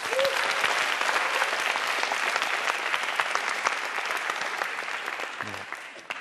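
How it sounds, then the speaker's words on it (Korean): Audience applause for middle school students at a Korean lecture event, a full, steady round of clapping that stays loud throughout and fades slightly at the end. "우리 중학생들에게 박수 한번 주십시오."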